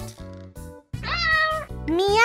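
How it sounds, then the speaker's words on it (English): A cat gives two distinct meows in quick succession, close and clear, over a low steady background. "A cat makes a meow sound."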